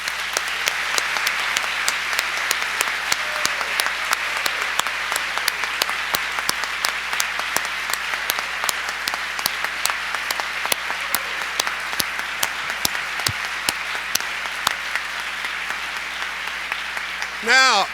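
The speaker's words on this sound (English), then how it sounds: "very loud applause." Sustained audience applause at a leadership conference fills the room for the whole stretch, a dense, steady wash of many hands clapping with individual sharp claps popping through.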